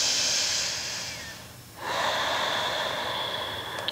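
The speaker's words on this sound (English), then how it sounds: "Breathe evenly." Steady, even breathing during a vinyasa yoga flow, a soft airy hiss holding through the clip with a brief dip in the middle before resuming, close and alone with no talking.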